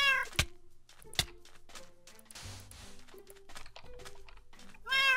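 Minecraft cat meows several times in the game, short clear mewing calls spaced apart, with soft in-game thuds and clicks in between.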